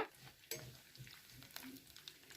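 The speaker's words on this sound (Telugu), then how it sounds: "ఆవాలు చిట్పట్లు ఆడాలండి" Mustard seeds splutter in hot oil alongside red chillies, cumin and curry leaves while tempering for an amla pickle, giving quiet scattered pops and crackles over a faint sizzle, with one sharper pop near the start.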